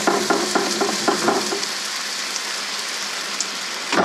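Water pours steadily into a pot of Japanese curry with potatoes, a continuous splashing hiss with a few stirring knocks early on, close and fairly loud.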